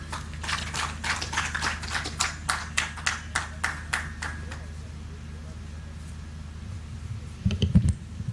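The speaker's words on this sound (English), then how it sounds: "Another round of applause, ladies and gentlemen, for Lindy and the Norwegian Embassy" At a launch event in Uganda, a small audience gives a round of applause: distinct, fairly sparse handclaps ring out for about five seconds, then fade to a quiet room before a brief thump of handling noise.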